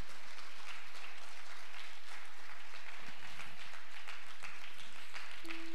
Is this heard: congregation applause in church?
yes